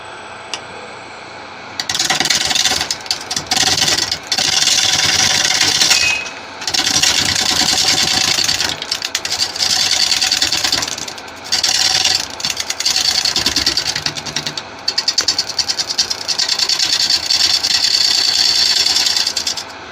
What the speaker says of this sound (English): I'm going to try on a carbide on this part here.